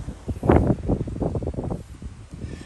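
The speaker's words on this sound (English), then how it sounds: "That wind's blowing this bow." Gusty wind buffets the microphone beside a river, a steady broadband rush that swells loudly early on and keeps rumbling and fluttering close up, with no one talking.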